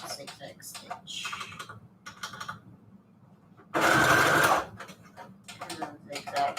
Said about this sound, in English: And then stitch, zigzag stitch.